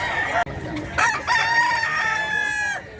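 A rooster crows at the Bocaue pet market where gamefowl are being sold, one long, loud drawn-out call close by, with faint crowd murmur underneath.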